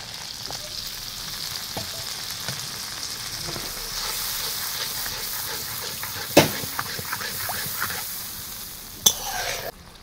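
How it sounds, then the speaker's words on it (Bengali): Rinse water from a bowl that held mustard paste is poured into a pan of frying hilsa fish, with a steady sizzle, soft stirring, and a few sharp clatters, near and fairly quiet. "একটু বাদেই সর্ষে বাটা যে পাত্রে ছিল সেটা ধুয়ে জলটা দিয়ে দিচ্ছি"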